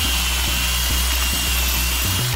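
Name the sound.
Makita power tool cleaning rust from a VW Polo wheel bearing housing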